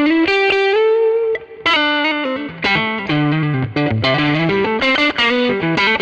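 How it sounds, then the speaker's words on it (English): Electric guitar played through overdrive into reverb pedals, switched with a One Control loop switcher, rings out in a steady stream of loud, sustained distorted chords and notes, with reverb trailing softly behind and no voices. "we just have that nice typical reverb sound where we have that beautiful overdrive and the reverb just kind of sitting in the back."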